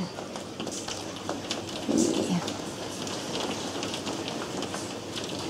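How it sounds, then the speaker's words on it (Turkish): Hail falls steadily outdoors in August, a dense continuous patter of pellets striking surfaces, with a brief voice heard partway through. "Kameradan yağmur gibi görünüyor galiba ama dolu yağıyor."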